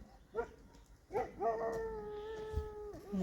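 Dogs on a farm give short yips and a drawn-out whining howl, fairly close but not loud, with brief pauses between the sounds.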